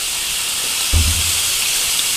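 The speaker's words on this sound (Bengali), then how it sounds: "হলুদ সব দিয়ে আলুটাকে ভেজে নেব।" Potatoes frying with salt and turmeric in a pan give a steady, bright sizzling hiss throughout, with a brief low thump partway through.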